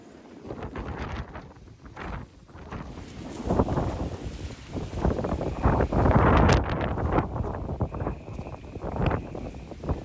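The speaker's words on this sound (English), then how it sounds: "the wind was still howling" Strong wind gusts buffet and roar in surges, rising and falling over ten seconds, loud and close with a rushing, blustery texture.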